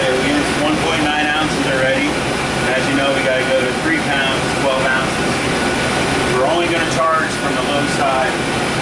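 A car's A/C compressor and engine run steadily during refrigerant charging, a constant mechanical hum beneath nearly continuous conversation.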